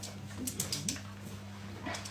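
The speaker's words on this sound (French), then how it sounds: "c'est mon chien." A pet dog whimpers indoors in a few faint, high, thin whines, close by over a steady electrical hum, with no talk.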